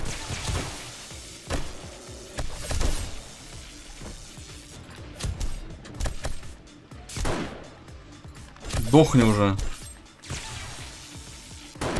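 Gunfire fills a night horde defense in the survival game 7 Days to Die, with scattered shots and impacts cracking across twelve seconds, and someone speaks briefly over the din.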